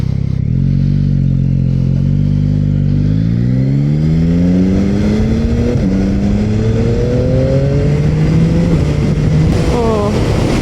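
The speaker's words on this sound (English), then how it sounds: "Manual mode is very, very smooth gear changes." Yamaha motorcycle with the Y-AMT automated transmission revving up through several smooth gear changes, the engine note rising, dropping at each shift and climbing again, loud and close throughout.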